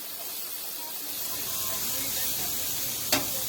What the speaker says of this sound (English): I'm cooking up some steak and mushrooms and onions, bro.